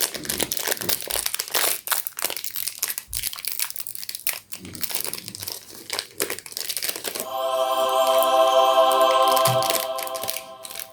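Demon Slayer merchandise packaging opened from the back, with close plastic crinkling and crunching in bursts, then a steadier, brighter rustle toward the end.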